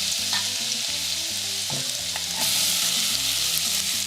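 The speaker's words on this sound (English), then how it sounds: "What we're doing is sweating the onions" Onions and garlic sweat in a pan for a seafood stew, a loud, continuous close sizzle with faint stirring underneath and no talking.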